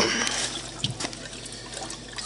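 A RainSoft Q2 series water softener with a faulty motor and water valve pumps out water, making close, irregular gushing and sloshing with brief splashy bursts.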